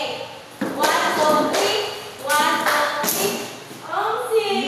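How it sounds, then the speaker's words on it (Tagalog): A group of people claps a taught counted rhythm in short sets of sharp claps, with a voice speaking and counting between them. "may tuturo ako palakpak sa inyo"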